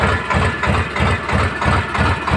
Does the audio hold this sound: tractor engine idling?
yes